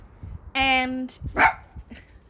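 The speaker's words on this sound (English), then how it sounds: "He's barking at his daddy." A dog lets out a drawn-out, whiny bark followed by a shorter yip, close by, with faint background noise.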